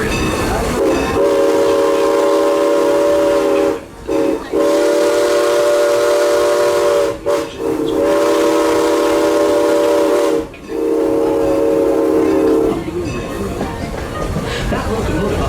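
Steam whistle of a Strasburg Rail Road steam locomotive, coal-fired, blowing a loud sustained multi-tone blast broken by three short gaps, then fading into the rumble of the train.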